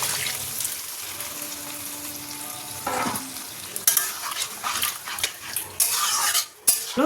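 Sauce hits marinated chicken in a hot wok, followed by scraping and clanking of a metal spatula stirring amid a steady sizzle, with loud bursts as the mixture is turned.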